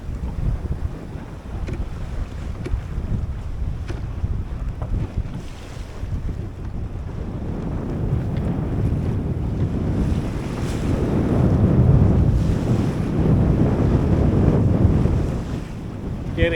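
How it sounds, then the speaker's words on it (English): Wind of about 12 to 13 knots and 3-foot waves with small whitecaps wash around a sailboat 50 miles offshore in fog, a loud continuous roar of wind buffeting and surging water rising and falling. "The wind has also increased. She's now blowing about 12 to 13 knots."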